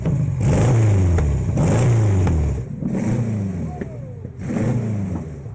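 A vintage aircraft engine runs close by, its rough, loud drone rising and falling in repeated surging cycles, as if being revved in bursts.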